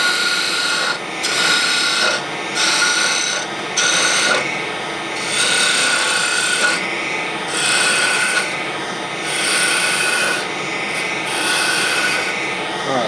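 A woodturning tool cuts into a large hollow wooden globe Christmas ornament spinning on a lathe, making loud, close scraping rasps that come in repeated bursts of a second or two with no talking.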